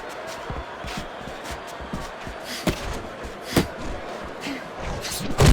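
Boxing punches land in a Fight Night Champion video game bout, a run of thuds and sharp slaps over crowd noise, with a commentator talking throughout.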